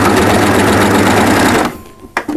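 An overlocker serger stitches a drawstring bag in a loud, rapid, steady mechanical whir that cuts off abruptly, followed by a brief clack.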